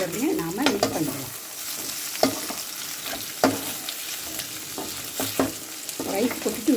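Fried chicken and egg are stir-fried in oil with garlic for chicken egg fried rice, a close sizzle broken by repeated sharp scraping and tossing strokes in a loose rhythm.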